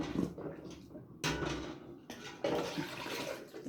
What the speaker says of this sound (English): just tip your water jars back into the hot water